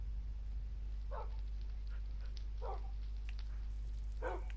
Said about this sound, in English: Hey, doggies!